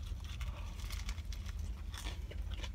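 Crisp crunching bites into a fresh, crunchy sandwich roll from a turkey club, several close, sharp crackles over a couple of seconds with no talking.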